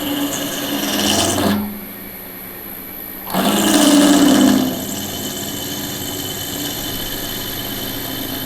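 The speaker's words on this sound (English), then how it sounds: "Care about your drills, keep some lubrication on them, especially drilling stainless." A drill bores into stainless steel for a TVR seat belt adaptor, its steady motor whine rising and dropping in two bursts around a brief lull, close and loud, with no talking.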